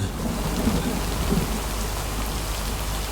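A thunderstorm with heavy rain pouring steadily and a low rumble of thunder rolling underneath, loud and continuous with no voices.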